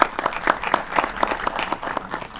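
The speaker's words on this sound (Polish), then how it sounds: "Proszę o gromkie brawa." An audience at a Polish hunting event claps briskly in a short, uneven burst of applause in a room, individual hand claps standing out.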